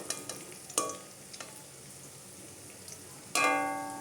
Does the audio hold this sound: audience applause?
no